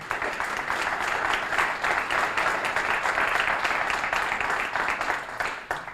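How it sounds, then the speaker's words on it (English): An audience at a chamber of commerce State of the Town address gives a round of applause for its business partners, a dense wash of clapping that stays steady for several seconds. "And let's give them a round of applause"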